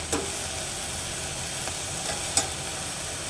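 Curry cooks in a pan over high heat, giving a steady low sizzle and hiss. A few faint clicks of stirring come through, with no talking.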